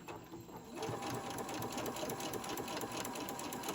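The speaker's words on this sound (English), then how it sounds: "I'm going to just gently sew down this side." Sewing machine stitching down the side seam of a ruffle-trimmed tote bag: a brief quiet start, then a steady, continuous, fairly loud mechanical whir with rapid needle chatter running unbroken to the end.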